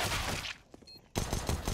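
Bursts of rifle fire crackle in a professional Counter-Strike: Global Offensive match, dense volleys at the start and end with a short near-quiet gap between them.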